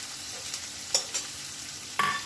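Chopped onions fry in hot oil in a pan for a Bengali fish-head and Malabar spinach dish, a soft continuous sizzle broken by two or three sharp scrapes and clinks of stirring.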